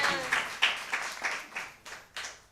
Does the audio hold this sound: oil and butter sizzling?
no